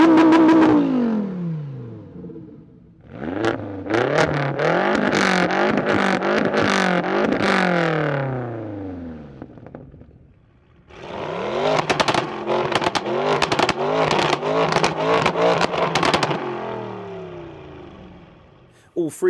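Three all-wheel-drive cars, a 740 hp BMW X5M, a 640 hp Lamborghini Huracán and an 830 hp Audi RS6, rev loudly in repeated sharp throttle blips, two close, aggressive bursts with a brief lull between them, ahead of drag races.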